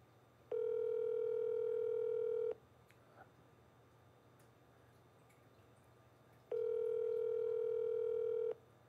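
A phone call rings out unanswered: two long, steady tones about two seconds each, spaced several seconds apart, loud over a low hum.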